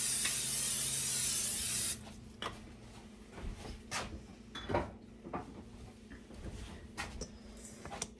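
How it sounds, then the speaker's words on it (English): Pam cooking spray sprayed onto a baking pan for baked oatmeal in a home kitchen, a steady loud hiss lasting about two seconds, followed by quieter clinks and handling noises of the pan. "I am going to spray my pan with Pam."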